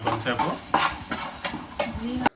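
Fenugreek, mustard, coriander and cumin seeds dry-frying in a pan for Nellore fish curry, with repeated scraping stirs and clinks of the utensil against the pan at a close, moderate level.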